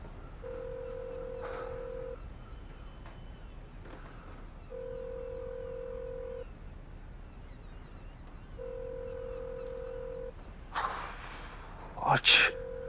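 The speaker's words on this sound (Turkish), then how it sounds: "Hadi Filiz, aç şu telefonu." A phone call rings out unanswered as a ringback tone repeats in three evenly spaced bursts with quiet gaps between them. Near the end a sharp breathy sound and a rustle follow.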